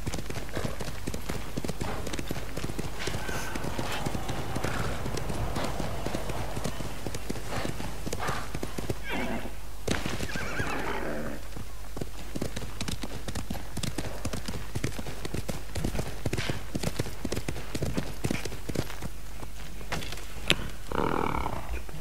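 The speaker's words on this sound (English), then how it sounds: "I forgot we can charge with the damn horse." Horse hooves clip-clop steadily at a gallop in the samurai video game Ghost of Tsushima, a continuous rhythmic beat throughout with a brief whinny-like burst near the end.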